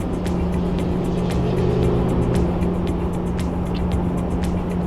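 Steady loud road drone from a vehicle cruising on a highway while overtaking a truck rig, with continuous engine and tyre hum and periodic wind buffeting, no voices.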